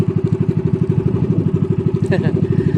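A motorcycle engine idles with a steady, rapid thumping pulse, then is revved a little higher, loud and close throughout with no talking.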